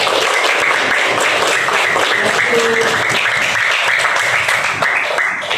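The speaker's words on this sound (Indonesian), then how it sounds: "tepuk tangan dulu untuk Bapak" A classroom of junior high students claps for their teacher at the end of a social studies lesson, with steady, dense applause filling the room throughout and no talking over it.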